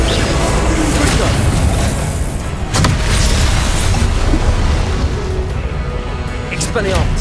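Confringo blasting curses exploding in the Hogwarts Legacy video game, with loud booming bursts at about 0.2, 2.7 and 7 seconds over continuous battle effects and spell chatter, sounding close and punchy.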